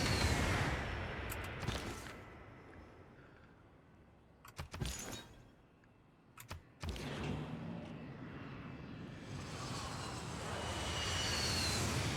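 Jet bombers attack a city in Civilization VI, producing a long, faint roar of aircraft engines that swells and fades over twelve seconds, broken by a few sharp bursts resembling explosions or gunfire.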